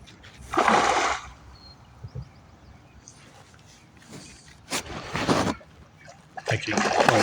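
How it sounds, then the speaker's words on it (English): A hooked channel catfish thrashes at the surface, throwing out several loud bursts of splashing separated by quieter gaps with faint trickles and drips, close by. "Making quite a big splash."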